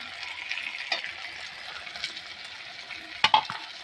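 Ginger-garlic paste being stirred and fried with reddened spices in a pan for a snail (geri gugli) curry, a steady close sizzle with soft scraping strokes and a couple of sharper utensil knocks near the end.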